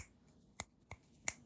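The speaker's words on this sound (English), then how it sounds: "snapping your fingers." Three crisp finger snaps, spaced irregularly and close to the mic, each a sharp isolated click against near silence.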